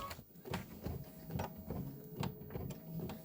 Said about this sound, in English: stitch the umbrella placement line, and that is going to be pink lemonade